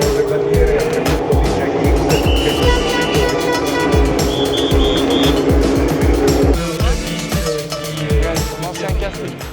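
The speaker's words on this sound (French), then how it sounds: "il y a la parade Ferrari là." Ferrari cars in a parade at the Monaco historic Grand Prix, engines roaring and revving close by in a dense, continuous rumble with pitch changes as cars pass, crowd and ambient noise mixed in.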